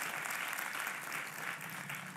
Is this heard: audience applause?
yes